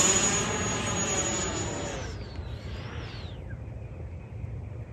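An E-flite Viper 70mm electric ducted-fan RC jet passes overhead, its high whine sweeping down in pitch as it flies by, leaving a steady, low, breezy outdoor rumble behind.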